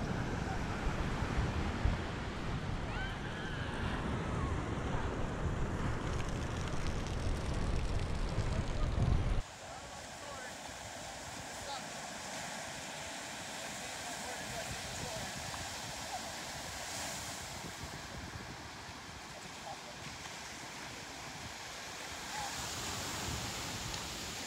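Ocean surf on an Oahu beach at sunset makes a continuous broad wash, loud and rough with wind at first, then softer and more distant after an abrupt cut.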